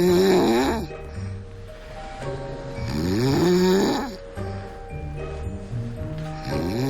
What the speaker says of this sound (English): Over the last 2 to 3 years, my snoring has become unbelievable.